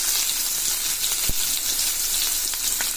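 Curry leaves frying in hot oil with onions for besan kadhi, a steady dense sizzle that holds evenly throughout, with a few sharper crackles and pops rising above it.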